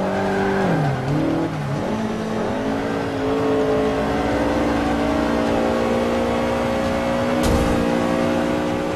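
Racing-game engine of a VW Beetle 2.0L rear-wheel drive fitted with a Civic engine in Forza 5 on a Bernese Alps course, a loud steady high-revving drone with rising and falling pitch through gear shifts, a brief tire squeal near the end.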